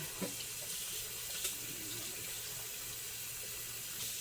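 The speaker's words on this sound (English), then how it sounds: "I need to wash the cleaver before I cut the onion" Tap water runs steadily into a kitchen sink while a meat cleaver is washed in hot soapy water, a constant soft hiss with a few faint clinks, no voices.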